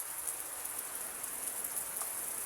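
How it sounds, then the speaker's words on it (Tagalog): Steady rainfall during the rainy season in Baguio City, Philippines, a continuous even hiss of drops on surfaces with no talking over it. "Dahil may halong ulan pa."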